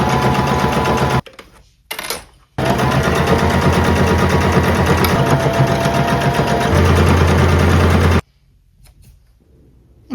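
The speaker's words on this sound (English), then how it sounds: "we're just going to do a straight stitch along this outer seam here all the way around" A sewing machine runs a straight stitch along the outer seam of a garment, a loud, steady, close mechanical whir that starts, pauses briefly, then runs for several seconds before stopping, with no talking.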